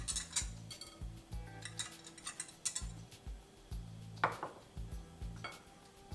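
A spoon clinks and scrapes around a bowl as besan batter is mixed with rice flour and spices, a series of irregular close knocks and taps with short pauses between strokes.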